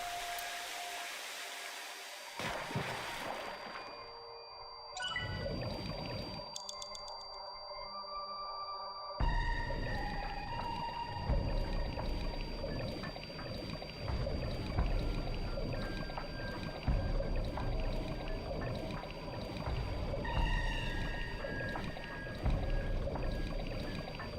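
Video game character from AI: The Somnium Files plunging into water, with a brief splash followed by a muffled underwater ambience of bubbling and low rushing that continues steadily.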